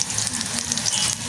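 Boondi deep frying in hot oil, a steady close crackling sizzle with a faint low hum beneath, continuous throughout.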